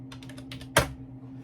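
A short burst of typing on a computer keyboard, several quick close key taps followed by one louder keystroke, in a quiet room.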